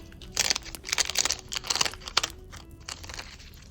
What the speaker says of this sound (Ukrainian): І відкриваємо наш пакетик